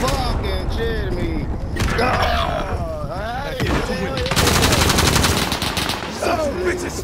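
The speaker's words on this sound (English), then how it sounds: "Nope, they're shooting at me." Rapid automatic gunfire and bursts from the video game Call of Duty: Modern Warfare, loud and continuous, with a voice talking over parts of the shooting.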